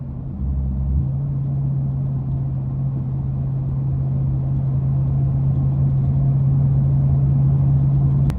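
A 2006 Chrysler 300 with a Hemi V8 drives along with a steady, close engine drone and low rumble throughout, a constant hum holding under the cabin noise, with no speech.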